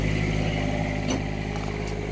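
A water-cooled Kubota mini excavator engine idles steadily and close by, a continuous even hum that holds level throughout without any pauses or changes in pitch.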